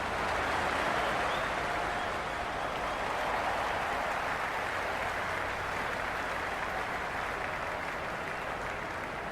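A packed crowd at a women's cricket match between India and England keeps up a loud, unbroken roar of cheering and noise across the ground, steady and distant, with no voice above it.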